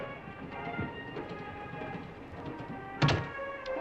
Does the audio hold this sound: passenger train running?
yes